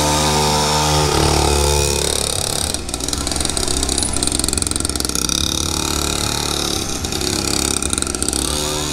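A mini dirt bike engine revs loudly and close during a race, opening with a strong buzzing rev then settling into a steady, sputtering two-stroke drone with no talk.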